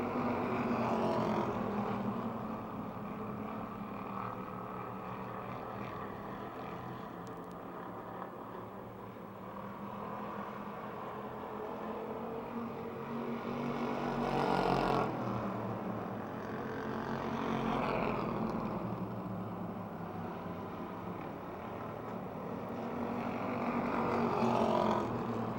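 Stock cars lapping a speedway oval in a late-race battle, their engines a continuous far-off roar that swells and fades as the pack circles the track, with no talking.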